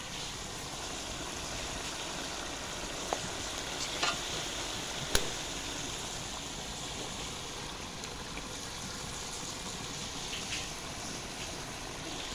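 Eggs sizzling steadily in a pan of nearly finished curry, being fried and stirred in a village kitchen; a continuous broadband hiss with a few sharp clicks of the spoon against the pan, no talk.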